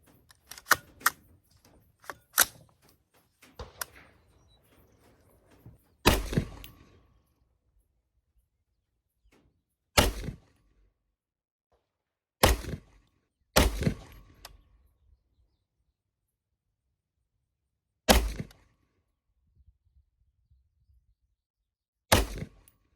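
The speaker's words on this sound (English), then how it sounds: "All right, there's your 3 shots." Several sharp, loud reports from a Palmetto State Armory AR-15 rifle at an outdoor range, spaced irregularly with long quiet gaps between them, each a crisp crack with a short decay.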